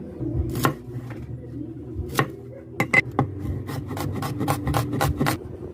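Vegetables and flaked boiled galunggong fish are ground by hand for saluyot soup, giving steady close rasping and rubbing with scattered sharp knocks and scrapes, denser toward the end, with no talk.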